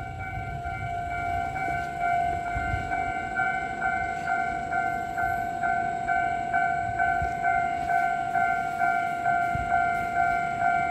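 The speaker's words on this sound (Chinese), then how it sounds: "说白了是有列车通过" A Taroko Express tilting train runs on Taiwan's North-link line near Ruifang, its steady horn-like tonal hum sounding over a continuous rumble of wheels on rail with faint rhythmic clicks, no talk.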